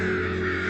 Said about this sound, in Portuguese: Quando encontram os corpos de corvos mortos, às vezes eles começam a piar alto ou reunir outros pássaros,